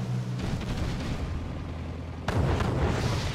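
Naval guns firing in the Red Alert video game, a heavy rumbling boom that swells and then kicks in with a sudden louder blast partway through, dense and sustained with no voices.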